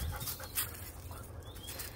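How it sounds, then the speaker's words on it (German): A Belgian shepherd dog pants close by with soft whimpers mixed into the quick breathing, set over a low rumble of background noise. "Meine belgische Schäferhündin."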